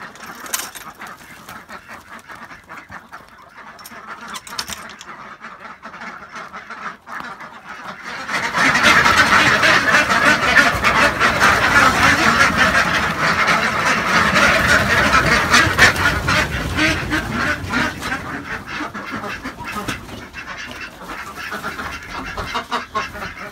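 A group of young ducklings kept in a baby pool brooder quack continuously, a dense, close chorus that swells loudly midway and carries on without pause.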